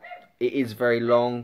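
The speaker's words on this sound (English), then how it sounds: "He's very loud and he just barks at random things." A loud dog barks at random things in the background, a few sharp, harmonic yelps and a drawn-out bark heard close by over someone talking.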